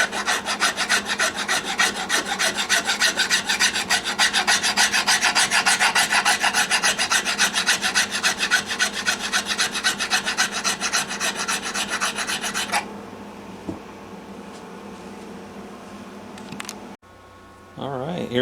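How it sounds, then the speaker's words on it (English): Hand filing and sanding on a carbon fiber guitar body where it meets natural wood, a steady, fast scraping rasp held close and loud for about thirteen seconds, then quieter rubbing strokes and a brief pause. "Use my file and my sandpaper."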